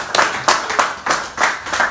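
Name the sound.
people clapping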